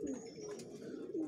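Pigeons cooing, with soft repeated throaty coos running through the whole short stretch at moderate loudness, and a few faint higher chirps above them.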